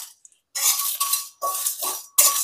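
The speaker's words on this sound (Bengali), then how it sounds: "এগুলোকে আমি শুকনো খোলায় ড্রাই রোস্ট করে নেবো।" Whole spices (dried red chillies, cloves, cardamom, cinnamon, bay leaf and mace) dry roasting in a dry pan, heard as loud bursts of rattling and scraping stirred in short spurts with brief pauses between.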